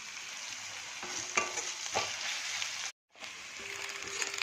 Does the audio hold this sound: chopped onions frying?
yes